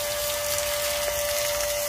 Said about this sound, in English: Just needed to prime the pump.